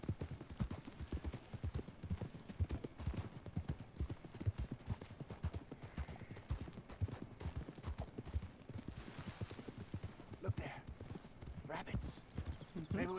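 Steady rhythmic clip-clop of horse hooves at a trotting pace throughout, in the video game Red Dead Redemption 2, with people talking over it and occasional faint game sounds.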